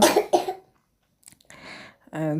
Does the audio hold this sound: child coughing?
yes